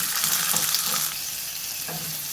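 Green peas fry in hot oil, a loud dense crackling sizzle that fills the clip close up, with a few faint scrapes as they are stirred and a slight drop in intensity halfway through.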